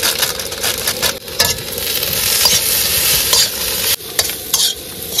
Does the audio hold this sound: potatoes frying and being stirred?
yes